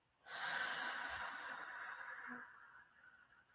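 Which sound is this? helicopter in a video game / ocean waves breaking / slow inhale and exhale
slow inhale and exhale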